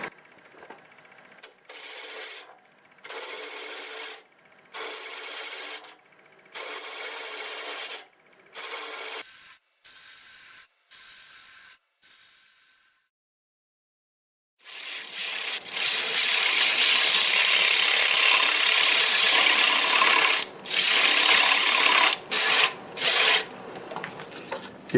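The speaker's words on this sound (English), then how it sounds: "We're going to use the 1/2 inch bowl gouge. And we'll turn that RPM up a little bit more, about 900 RPM." A 1/2 inch bowl gouge cuts wood on a lathe spinning at about 900 RPM, first in short rhythmic scraping bursts, then in a louder sustained rasping cut with brief pauses.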